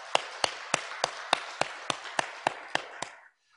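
Applause from a church congregation during a Sunday service, heard as about twelve sharp, evenly spaced claps in a steady rhythm that end abruptly.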